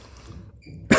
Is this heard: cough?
yes